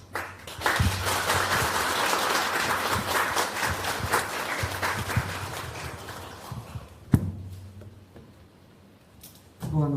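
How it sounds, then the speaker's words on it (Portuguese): An audience claps to welcome a speaker to a talk, with sustained applause from a sizeable group of people for about six seconds before fading, a sharp knock, then near quiet and a brief return of clapping at the end. "vamos recebê-la com uma grande salva de palmas"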